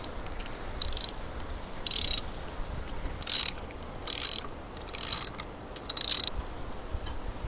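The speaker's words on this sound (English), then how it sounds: "Now we take these two bolts off and this one bolt off" Ratchet wrench loosening bolts on a jon boat outboard motor's lower unit, several short bursts of rapid clicking spaced about a second apart, close and clear over a quiet hum.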